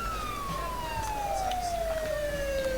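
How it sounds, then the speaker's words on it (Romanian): An ambulance siren in a FiveM Romanian roleplay game wails steadily with a long descending tone, loud and continuous over a low engine rumble, with no talk. "Uite ambulanța în spatele tău"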